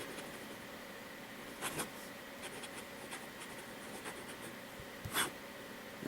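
Fountain pen writing on paper, quiet scratchy strokes in short bursts with brief pauses, faint and close in a calm room.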